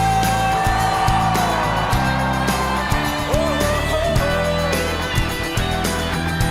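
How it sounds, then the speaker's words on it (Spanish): A church congregation at a worship service shouts for joy, a sustained, loud mass of voices with whoops and yells running throughout over a steady tonal backdrop. "Ahora todos gritamos de júbilo."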